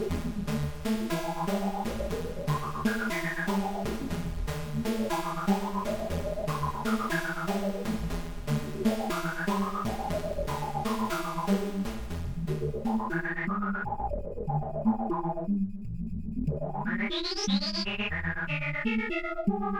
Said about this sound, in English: Next we'll move to a unison detune chord